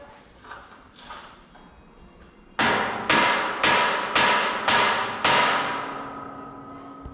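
Hammer blows ring out on a pre-fab metal building, a few soft taps followed by six loud, resonant metallic strikes in a steady rhythm, each clanging hit decaying slowly.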